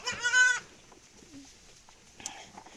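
A goat gives one short, nasal bleat close by, followed by quiet rustling and a faint higher call near the end.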